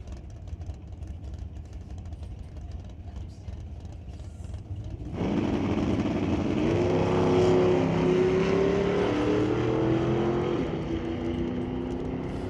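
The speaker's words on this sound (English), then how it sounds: "1970 GTO in the right lane." A 1970 Pontiac GTO drag racing in the right lane at a qualifying event, its engine roaring up abruptly and loudly after a quieter idle, rising in pitch as it pulls away.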